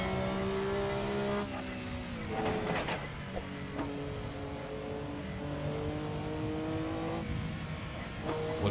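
A Porsche 962C Group C race car howls around the Nürburgring Nordschleife in Assetto Corsa, its engine droning steadily at high revs with pitch shifts through gear changes and slight bumps, loud and continuous.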